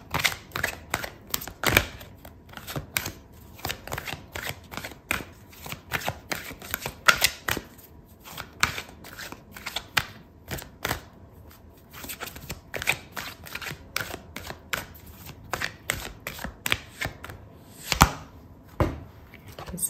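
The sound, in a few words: tarot cards being shuffled and drawn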